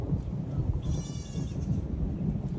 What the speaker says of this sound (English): And these little goats,